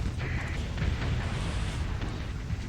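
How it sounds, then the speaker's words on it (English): Thermal pulse cannons fire in the space combat game Starsector, a steady roaring wash of dense, rumbling blasts that runs unbroken and fairly loud throughout, with no talk. "that's our thermal pulse cannons firing"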